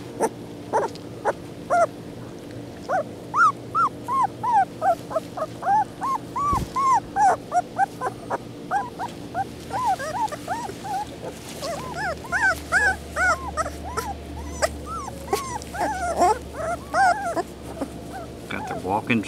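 Puppies whimpering and yipping in a continuous chorus of high, wavering cries, close by, with a low hum underneath.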